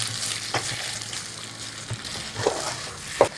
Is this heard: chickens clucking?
no